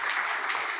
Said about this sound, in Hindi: अरे 18 लाख रुपए के लिए इतनी सी तालियां